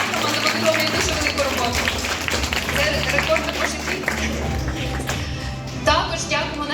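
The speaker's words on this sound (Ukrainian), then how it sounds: "Оплески їй, будь ласка" Applause from an audience at a Guinness record event where Ukrainian pysanka painters gathered, a moderate patter of clapping running beneath a voice speaking over a PA, with crowd murmur throughout.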